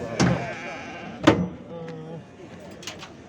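Two short sheep bleats about a second apart, with a fainter third call later, over low background chatter and movement at a livestock market in Çorum, Turkey.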